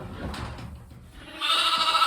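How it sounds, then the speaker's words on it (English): A bottle-fed baby lamb bleats on a spring farm, a wavering cry heard close up with some shuffling beforehand. "This is one of the bottle baby lambs."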